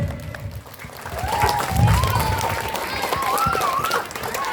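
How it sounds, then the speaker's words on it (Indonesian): An elementary school audience at an Isra Mi'raj event applauds a teacher, a steady crowd clapping that rises and holds, with voices and a high tonal call over it. "Tepuk tangan buat Bu Alis"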